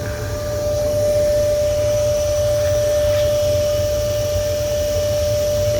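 A boiler used for steam curing a concrete bridge leaks steam in a steady, loud, continuous hiss with a constant tonal whine above it and no talk.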